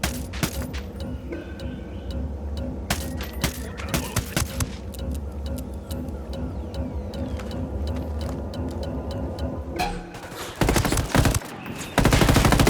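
Gunfire in the video game Ghost Recon Wildlands: loud, sustained bursts of automatic fire with rapid rattling shots, broken by a short pause and then heavy blasts near the end.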